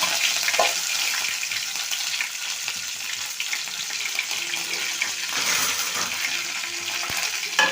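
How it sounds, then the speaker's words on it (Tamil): Mustard seeds and urad dal sizzle in hot oil for beetroot poriyal, a dense, steady frying hiss with faint popping close by, unbroken and without talk. "எண்ணெய் நல்லா காஞ்சிருச்சு இப்போ கடுகு உளுந்து சேர்த்துக்கிடுவோம்"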